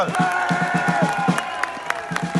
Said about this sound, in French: je vous demande de faire un tonnerre d'applaudissements à Alexandre Pâtre